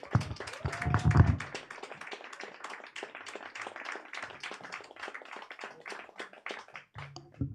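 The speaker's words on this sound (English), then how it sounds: "Round of applause for her." A comedy hall audience claps in applause for a stand-up comedian, starting with a louder burst under some background music and cheering, then settling into steady, even clapping.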